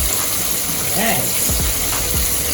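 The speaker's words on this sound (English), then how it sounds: "I love to cover my chicken when I'm frying" Steady hissing sizzle of chicken frying in a pan, with a few low clunks and scrapes partway through.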